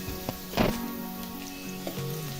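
Chilies and garlic dropped into a hot pan for a dry gram-leaf vegetable dish, giving a brief burst of sizzling frying followed by softer crackles, close and alone.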